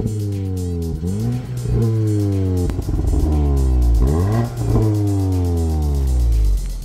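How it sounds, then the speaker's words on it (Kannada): A Volkswagen Golf GTI with twin exhausts revs repeatedly, each sharp climb of the engine note dropping back between blips, loud and close with no talk over it. "ಆ್ಯಂಡ್ ನಿಮಗೋಸ್ಕರ ಇದರ ಒಂದು ಎಕ್ಸಾಸ್ಟ್ ಸೌಂಡ್ ಕೂಡ ನಾನು ಹಾಕ್ತಾ ಇದ್ದೀನಿ."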